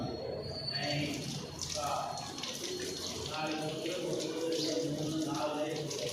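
Tap water runs steadily over feet as students perform wudu ablution, a soft continuous splashing flow heard at a distance, with faint voices in the background.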